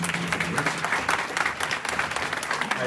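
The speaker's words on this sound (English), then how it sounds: "I appreciate the applause" An audience at an anniversary celebration breaks into steady, dense applause that carries evenly from start to finish, with many hands clapping at once and no voices.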